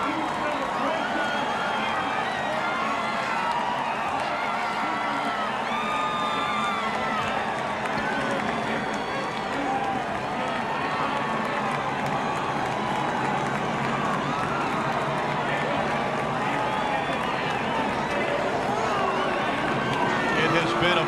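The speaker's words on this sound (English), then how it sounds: "Boisterous crowd." Boisterous crowd at a NASCAR race, loud continuous cheering and hubbub from a large crowd with whoops and shouts, mixed with many voices talking throughout.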